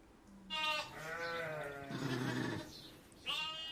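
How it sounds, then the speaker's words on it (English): A sheep bleats loudly in a long wavering call, followed by a shorter second bleat, played back from a clip about sheep and wool making. "A sheep"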